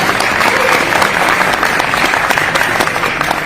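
Loud, dense applause from a business audience at a company launch event in Dubai, steady and sustained from start to finish with no voices on top.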